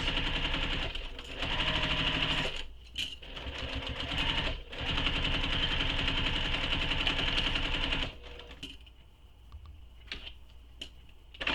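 Sewing machine stitching a crossbody bag and backstitching at a corner, running in steady rapid bursts with brief pauses, then quieter handling near the end.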